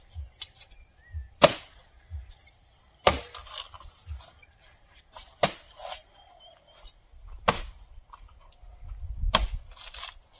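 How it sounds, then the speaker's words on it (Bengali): Sharp, isolated whacks of a machete chopping into a banana tree trunk outdoors, about five distinct strikes spaced a second or two apart, with faint rustling and a constant high insect drone behind. "দা নিয়ে গাছটাই কেটে দেবো"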